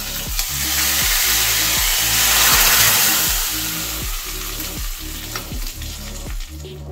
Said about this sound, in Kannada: ಒಗ್ಗರಣೆ ಹಾಕೋಣ